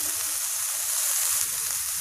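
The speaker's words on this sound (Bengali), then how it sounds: "পাতাটা অনেক বেশি ভাজা ভাজা করা যাবে না" Fresh coriander leaves sizzle and fry in a pan on the stove, a steady close crackle with soft stirring thumps underneath and no talking.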